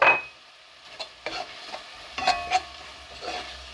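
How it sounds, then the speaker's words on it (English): Spices go into a paella pan with mussels and king prawns, followed by a few scattered scrapes and clinks of stirring over a faint sizzle, close up and without speech. "So I'm gonna put in my spices in there."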